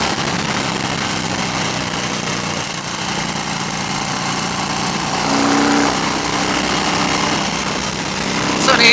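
A 2015 Harley-Davidson Fat Bob pulls hard after dropping a gear, its engine a steady, close roar blended with heavy wind and road rush that swells slightly near the end.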